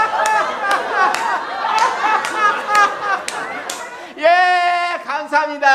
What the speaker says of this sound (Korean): 마지막으로 다 함께 크게 웃으면서 박수 치면서 마치겠습니다